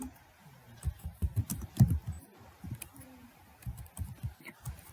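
Typing on a computer keyboard, a steady run of close, crisp key clicks with uneven rhythm and occasional heavier strokes, with no voices present.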